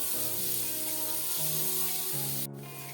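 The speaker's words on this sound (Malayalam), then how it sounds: "ഒരു മീഡിയം ഫ്ലെയിമിലിട്ട് ഇത് ഫ്രൈ ചെയ്തെടുത്താൽ മതി" Ginger pieces frying in oil over a medium flame while making an Onam ginger curry give a steady, close, continuous sizzle that holds evenly throughout with no voices.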